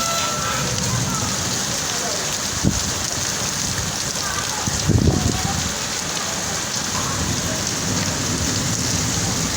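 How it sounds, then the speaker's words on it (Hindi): Steady heavy rain pours throughout, with a couple of brief low rumbles of thunder breaking through the hiss. "बादल जो है वो बहुत ज़ोर से आवाज़ कर रहे हैं"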